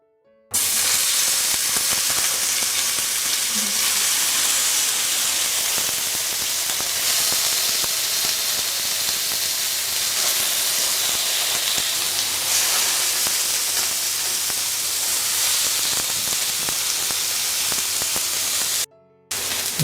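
Chicken seekh tikka sizzling steadily on an oiled electric grill, a loud, continuous hiss of frying meat that carries on evenly with no talking.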